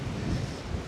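Strong night wind buffets a microphone in Northumberland, a dense, continuous low rumble and roar with gusty fluctuations throughout the brief moment.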